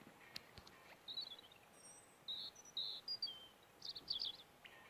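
A European robin sings in short, high, thin warbling phrases with pauses between them, carrying faintly over a quiet outdoor background of soft insect hum.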